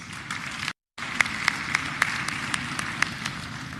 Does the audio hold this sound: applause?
yes